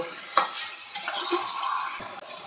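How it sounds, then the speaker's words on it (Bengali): Mutton being stirred and fried with onion, ginger and garlic in a pan, with a few sharp scrapes and clinks of a utensil against the pan over a soft sizzle, close and fairly quiet. "এবার ভালো করে পেঁয়াজ আদা রসুনের সঙ্গে আমি মাংসটা কষিয়ে নেব"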